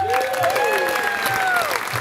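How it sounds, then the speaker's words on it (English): An audience at a community awards banquet applauds in a steady, dense wash of clapping throughout, with a voice speaking over it. "If everybody will please give them all a round of applause"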